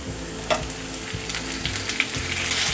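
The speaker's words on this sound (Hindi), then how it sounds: "अब हम इसमें चौप टमाटर डालेंगे" Chopped tomatoes tipped onto sautéed onions in a hot pan for kanda poha set off a loud, steady frying sizzle, with a few stirring knocks and scrapes.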